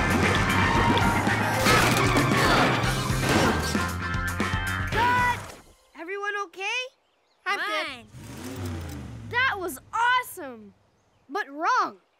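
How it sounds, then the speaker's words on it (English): A cartoon truck smashes into traffic cones with a loud crashing burst over revving engine and busy soundtrack, then the noise drops away and children's cartoon voices talk in short exchanges. "you were supposed to crash into those tires, not the cones"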